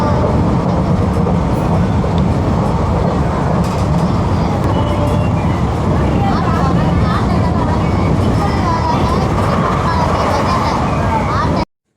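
A Kanniyakumari–Tirunelveli passenger train rolls along loudly from inside a carriage, a constant heavy rumble with rattling and clatter, then cuts off abruptly.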